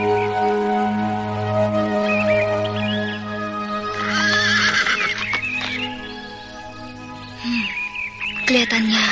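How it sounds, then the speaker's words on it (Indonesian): A horse in a palace courtyard gives a long, loud whinny, then another shrill neigh near the end, over a steady droning tone and some hoof clip-clop, with a person talking in between. "Kelihatannya kuda ini bisa kupakai."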